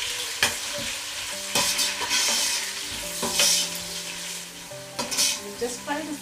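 Chopped onion sizzling and frying in hot spiced oil for a Mysore-style donne biryani, a steady crackle broken by several louder bursts as the pan is stirred, close and clear with no talking.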